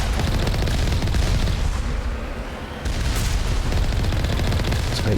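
Dense, continuous gunfire rattles without pause while fighting turrets in the video game Mass Effect, loud rapid shots layered with booming impacts, easing briefly midway before resuming at full intensity.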